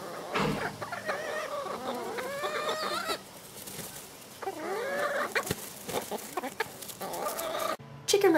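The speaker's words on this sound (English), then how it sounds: "Oh, but first, there were chickens." Chickens clucking and calling in Hawaii, several birds close by in a steady run of clucks and squawks, with no talk over them.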